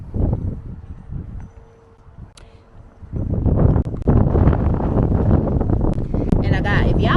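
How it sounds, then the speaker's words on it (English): Gusty wind sweeps through a spring vegetable garden planted with tomatoes, buffeting the microphone in loud rushes that swell after a calmer moment, while someone talks over it. "it's so windy, y'all."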